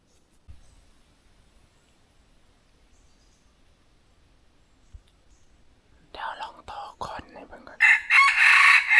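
A rooster crows loud and close near the end, after several seconds of near-silence broken by a few faint soft sounds.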